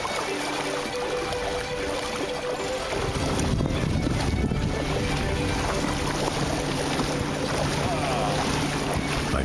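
An Irwin 23 sailboat moving under sail, with a steady wash of water and wind noise against the hull that holds at an even loudness throughout, with no voices.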